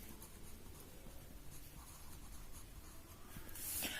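Marker or chalk scratching and rubbing across a classroom board as numbers are written in a class 6 maths lesson, steady close strokes with a louder squeak near the end.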